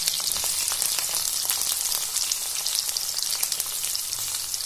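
Green chillies and chopped onion sizzle steadily in hot oil with browned cumin in a pan, a dense continuous crackle that holds at an even level throughout with no voices.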